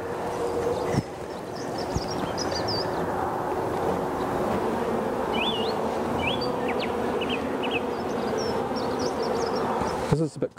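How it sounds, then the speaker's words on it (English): Honeybees flying around an open hive during queen grafting with a Cloake board, a steady dense buzzing drone close by with a few higher chirps over it and a brief knock near the end. "the bees are just starting to fly"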